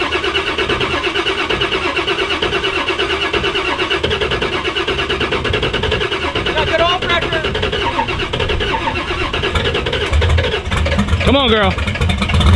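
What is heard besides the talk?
car engine cranking, trying to start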